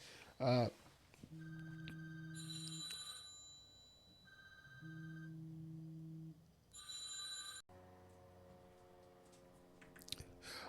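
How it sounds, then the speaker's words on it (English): A telephone rings with an electronic tonal ringtone that repeats in several bursts separated by short pauses, alongside a few brief clicks and handling noises. "My phone started ringing."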